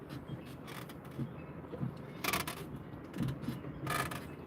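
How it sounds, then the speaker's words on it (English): A dock creaks in strong wind with repeated groaning creaks and rattles that come and go irregularly, a breezy background hiss and occasional louder bursts of strain. "Listen at their dock whipping."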